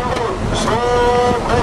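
A patrol boat chases Filipino fishing boats at sea off North Sulawesi, its steady engine drone and water rush running continuously with wind, while a voice speaks over it.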